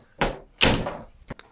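Small darkroom box door pushed shut against a thick obstruction, making two close, heavy thumping bumps followed by a couple of lighter taps.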